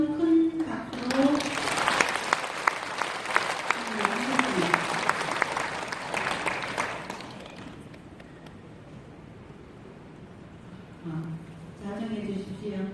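An audience at a Buddhist dharma gathering gives a monk a long round of loud applause, which fades out, with someone speaking before and after the clapping.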